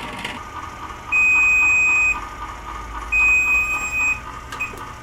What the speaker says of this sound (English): There is my timer.